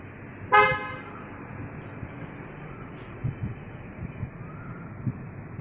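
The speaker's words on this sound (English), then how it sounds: "the car is on." An Audi A3 Cabriolet idles with a quiet, low engine hum after a short, bright tonal beep near the start, with a few soft knocks inside the car.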